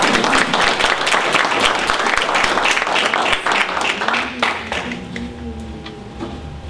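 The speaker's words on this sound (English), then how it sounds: "So let's give her a round of applause." Attendees at a community human relations awards ceremony give a warm round of applause as an honoree comes forward, loud clapping that thins and fades toward the end as a voice begins.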